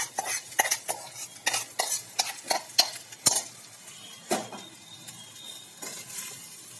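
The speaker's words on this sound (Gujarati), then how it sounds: "ચાલો તેને સરસ રીતે મિક્સ કરી લઈએ।" A spoon scraping and clattering repeatedly against a pan while tawa pulao with partly cooked rice is stirred and mixed, irregular close knocks and scrapes with a faint sizzle underneath.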